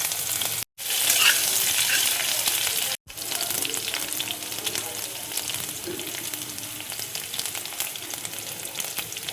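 Chopped green chillies and curry leaves frying in hot oil for an instant bread snack, a loud bright crackle right after two brief dropouts, then settling into a steady close sizzle.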